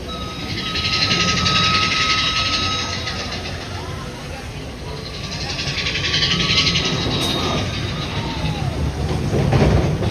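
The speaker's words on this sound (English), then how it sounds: "Trains are flying today." A Disneyland railroad train rolls past outdoors at a theme park, a steady rumbling and clattering swell that rises, eases and builds again over about ten seconds, with faint crowd and park ambience around it.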